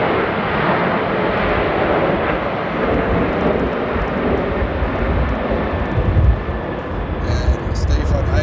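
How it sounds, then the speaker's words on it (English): A passenger jet takes off at Amsterdam airport in rain and strong wind. A broad, loud roar of engine noise holds steady for the whole stretch, mixed with wind buffeting on the microphone, heard from a parking area near the runway. "Beautiful slow rotation and a low takeoff profile."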